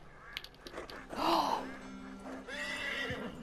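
A horse neighs loudly in the Red Dead Redemption 2 online video game, one long whinny in the middle followed by a softer snort over low game background noise.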